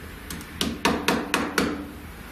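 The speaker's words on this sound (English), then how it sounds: "What's a tap on this table?" About six sharp, close knocks on a wooden table in an old market tavern come in an uneven rhythm, each one crisp and short against a quiet room.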